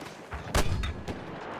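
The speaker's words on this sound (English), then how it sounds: "have you ever landed an HE mortar shell in the middle of a sniper's face?" A single HE mortar shell bursts in Battlefield 6 multiplayer, a short, mid-distance thud with a brief rumbling tail, followed by a fainter second crack.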